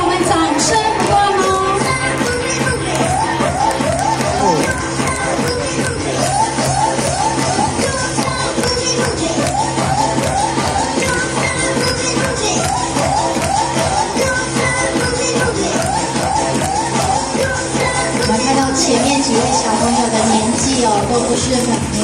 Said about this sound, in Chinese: 来，跟着音乐，我们掌声不断